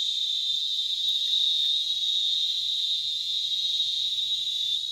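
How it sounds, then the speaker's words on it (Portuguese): High-pitched, piercing song of a cigarrito cicada in Minas Gerais, a steady unbroken buzz held loud and constant throughout, with faint low rumbling beneath. "Agora o cigarrito é um canto fino, chega de doer no ouvido."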